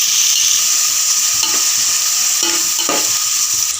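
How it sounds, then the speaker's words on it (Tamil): Onions and green chillies sautéing in a pan for chicken biryani, a loud dense sizzle throughout, broken by a few quick spatula scrapes. "வெங்காயத்தை நல்லா வதக்கிக்கோங்க, பொன்னிறமாக ஆகிற வரைக்கும்."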